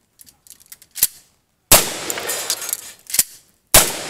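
Shotgun blasts at a cowboy action shooting stage, three sharp loud reports spaced a second or two apart, with light clicks and clatter of handling between shots.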